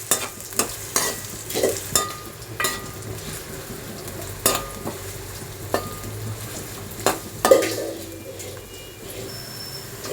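Onions and green chillies cooking in a pan for chicken curry, a low steady sizzle with repeated scraping stirs, while birds coo faintly in the background.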